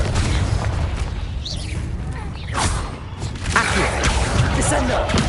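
A magical explosive blast spell from Hogwarts Legacy, a booming burst with crackling debris partly under an excited voice calling out spells, amid busy game combat noise.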